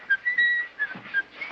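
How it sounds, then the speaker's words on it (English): A person whistles a short, wavering tune in a few thin, clear phrases, close and fairly soft, with brief gaps between the notes. "Try whistling again, why don't you?"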